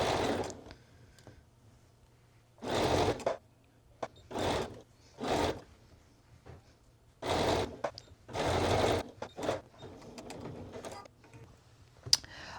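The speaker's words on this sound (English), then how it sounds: "We've got our armband, now sewn to the armhole." A sewing machine stitches a garment's armband to its armhole in several short, steady bursts of whirring motor noise, separated by quiet pauses, close and clear with no talking.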